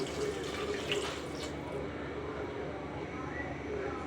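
Water pours steadily into a pot for cooking basmati rice, a continuous splashing flow that stays fairly constant.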